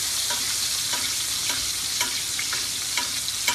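Fish basted with browning butter in a pan, a loud, bright, continuous sizzle and crackle with regular spoon clinks and splashes as butter is ladled over, close and with no one speaking.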